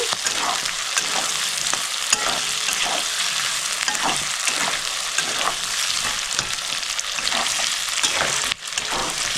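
Capsicum and onion stir-fry on high flame for chilli chicken, a loud continuous sizzle with the regular scrape and clatter of a spatula tossing the pan, and no voices.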